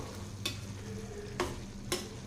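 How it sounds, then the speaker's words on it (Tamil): Potato chukka sizzles softly in a pan while a spoon stirs it, three distinct scraping strokes spaced across a low continuous frying hiss, with no talk. "இடையில ஒரு ரெண்டு டைம் நம்ம வந்து நல்லா கலந்து விட்டுருணுங்க"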